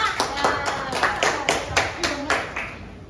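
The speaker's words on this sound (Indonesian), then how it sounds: "kasih dulu tepuk tangan buat temennya" Students in a high school economics classroom clap for a classmate. The clapping is brief, scattered and roomy, with a teacher's voice under it.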